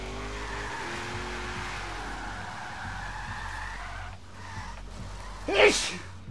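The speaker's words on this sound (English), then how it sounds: "I really gotta sneeze, and I'm trying not to." A single sharp human sneeze breaks out near the end over the steady engine drone of a V8-swapped Subaru SVX in a racing video game.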